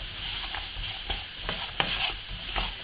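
Almonds are stirred in caramelizing sugar in a pan, a close, rhythmic scraping and rattling of nuts repeating roughly every half second over a soft sizzle.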